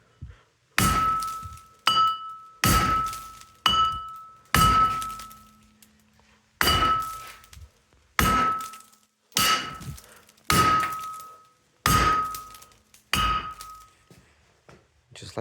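A hammer strikes the front brake rotor of a Lexus ES 300 about a dozen times, each blow a sharp metallic clang that rings briefly, spaced roughly a second or more apart and heard close up.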